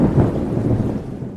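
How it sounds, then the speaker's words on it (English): Thunder rumbles deep and heavy over steady falling rain in a storm sound effect, a loud continuous roll that eases slightly toward the end. "a violent tornado came with thunder, lightning, and rain."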